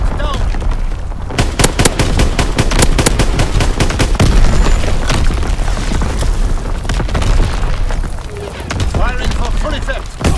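Call of Duty: WWII fighter strafing run, dense rapid gunfire and booming explosions in a loud continuous barrage, close and chaotic, with game radio voices mixed in.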